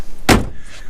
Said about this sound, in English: Let's shut this the door here for a second.